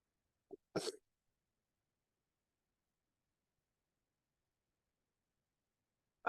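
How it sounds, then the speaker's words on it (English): A few short, dry coughs from a man with a throat infection, heard close and alone in an otherwise silent room, followed by a long pause. "I was coughing a little bit because I have a throat infection."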